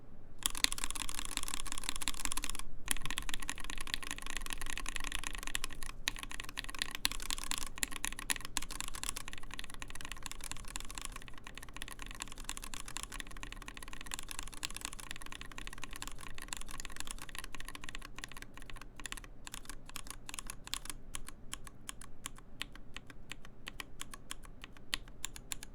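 Typing on a Satisfaction75 mechanical keyboard, comparing stock and lubed switches: a continuous, close run of rapid key clacks for the whole stretch, with no talking.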